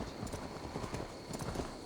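Steady clip-clop of horse hooves at a walking pace in the video game Assassin's Creed Valhalla, fairly close, over a low ambient background; no talking.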